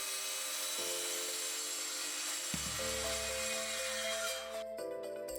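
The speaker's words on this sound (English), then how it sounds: "I cut the boards with a circular saw" A circular saw whines at high pitch as it cuts through wooden boards, a continuous loud buzz with the motor tone shifting partway through.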